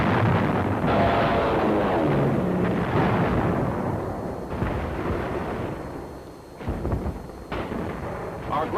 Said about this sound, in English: And Navy dive bombers blasted the Jap batteries and defenses.